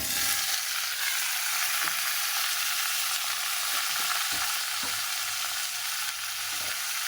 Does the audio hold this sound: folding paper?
no